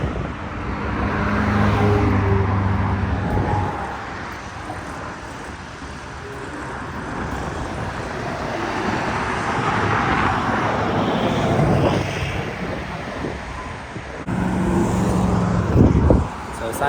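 Steady roadway traffic rolls along a road beside a sidewalk on the walk to Lake Lanier, with cars swelling and fading as they pass close by, a continuous rushing hum.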